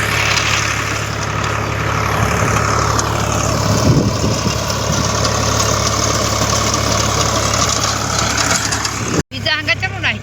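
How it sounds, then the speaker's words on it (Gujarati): A farm tractor's engine drones steadily and loudly at idle out in a wheat field, a continuous low rumble with people talking over it. "અમારું ટ્રેક્ટર થઈ છે."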